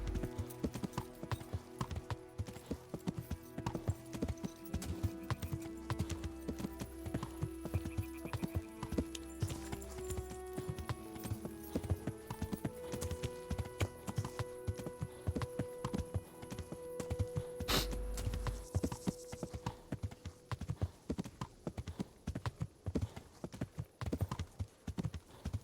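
Horse hooves clip-clop steadily through a medieval video game scene, a continuous rhythmic walking beat layered over game music and ambient effects, with occasional brief chatter in the background.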